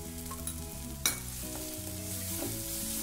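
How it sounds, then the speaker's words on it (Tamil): Tomatoes with garam masala sauté in a pan, a continuous close sizzle with stirring scrapes and one sharp clack of the spoon, set against a steady hum with no talk. "தக்காளி நல்லா வதங்கி வரணும்"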